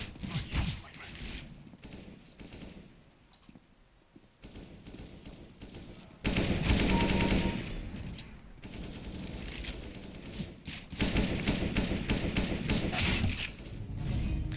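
Bursts of AK rifle fire in a video game, rapid automatic volleys and single cracks that come and go in dense clusters, with louder stretches toward the middle and end and a voice talking over parts of it.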